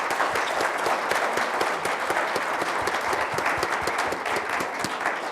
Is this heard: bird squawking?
no